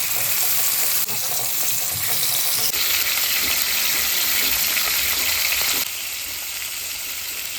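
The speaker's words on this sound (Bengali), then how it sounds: "তিনটা মাছ ভাজা বসিয়ে দিয়েছি" Fish sizzle and crackle in hot oil in a pan, a close, steady frying hiss that briefly shifts in intensity as the pan is handled.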